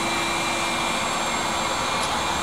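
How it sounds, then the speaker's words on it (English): A steady, loud motorized whine and roar of a neighbor's outdoor yard work equipment runs continuously nearby, like a leaf blower droning without pause. "Apologize for the noise. Neighbor's doing a little bit of yard work."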